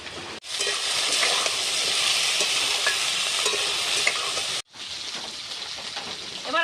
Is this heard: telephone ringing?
no